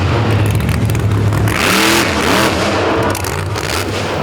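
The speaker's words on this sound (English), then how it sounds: "Nice vertical hit for the big black and green Chevrolet." A big black and green Chevrolet in a demolition derby revs hard, its engine pitch rising and falling in surges, with scraping metal and crowd-scale noise around it, loud and close.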